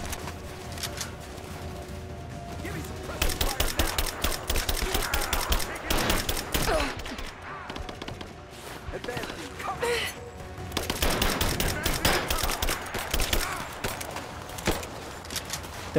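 Rise of the Tomb Raider gunfire crackles in rapid automatic bursts and single shots, loud and dense, with short pauses between volleys while a player talks over it.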